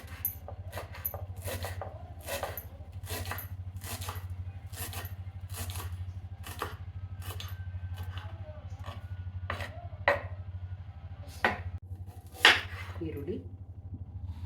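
A knife chops washed coriander leaves on a board in quick, crisp taps, close and fairly quiet over a low steady hum, with a few louder knocks near the end.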